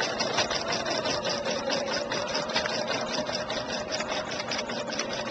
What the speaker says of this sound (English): push the start stop button, and you're off running again with no missed stitches at all